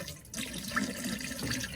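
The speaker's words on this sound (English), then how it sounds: "we're gonna pour some into the toilet too, so there'll be some into the dark water tank" RV antifreeze pours into a travel trailer toilet with a short liquid splash and gurgle, close and steady with no talk.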